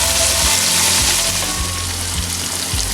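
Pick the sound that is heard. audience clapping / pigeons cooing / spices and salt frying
spices and salt frying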